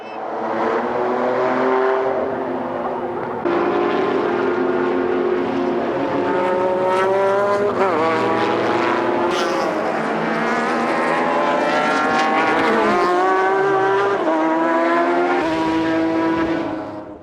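Race cars from the 1998 JGTC GT championship scream past loudly, engines rising and falling through gear changes with overlapping whines from several cars, continuous and close, no talking.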